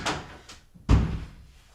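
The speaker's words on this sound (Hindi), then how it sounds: "दरवाजा खोलो" A door in a domestic drama scene is opened, giving a soft first knock or latch sound, a faint second click, then a heavy, close thud as the door swings and bumps, with a short fading tail.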